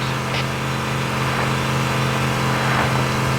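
A Warthog vehicle's engine in Halo CE hums steadily at a constant, fairly loud level, a buzzing motor drone with no talk over it.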